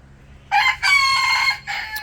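A rooster crows inside a chicken coop, one loud, close call in several bursts that rise and hold, then a short trailing note, standing alone with no talk.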